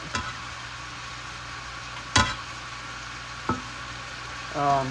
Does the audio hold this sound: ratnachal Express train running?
no